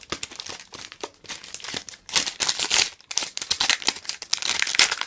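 Pokemon Furious Fists booster packs being shuffled by hand: continuous crinkling and crumpling of foil wrappers in irregular bursts, close and fairly loud, with no voices.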